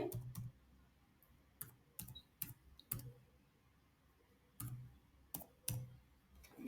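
Keys and a mouse click on a computer in a quiet room, with sharp, crisp taps arriving in small irregular clusters separated by pauses, close and fairly soft.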